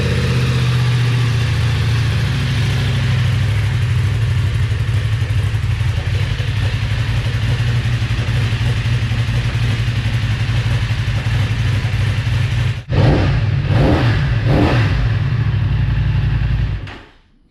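A BMW F900R motorcycle engine idles roughly and loudly on a cold start with a deep exhaust rumble from a new exhaust, then a sharp clattering burst near the end before it cuts out.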